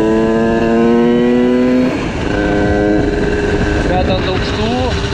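An HM CRE scooter engine holds a steady buzzing drone, then revs and climbs in pitch toward high revs, loud and close, with a voice talking over it.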